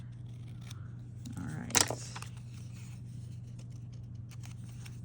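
A single quick scissor snip cuts through paper or card while a handmade book is being assembled, one short sharp burst near the middle of a quiet background hum, with a brief spoken word.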